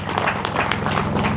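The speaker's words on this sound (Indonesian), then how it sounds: "Maka tepuk tangan untuk ibu-ibu yang hebat ini" Applause from an audience honouring a group of mothers at a gathering, a brief, steady wash of many hands clapping with light crowd murmur throughout.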